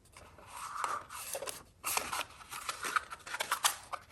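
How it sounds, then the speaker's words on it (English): Scissors trimming material for a Halloween craft, a run of close, crisp snipping and crunchy cutting strokes in uneven bursts with brief pauses between, no one talking. "So I will probably trim it again."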